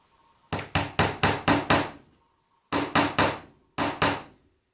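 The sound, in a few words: hammer driving small nail into wood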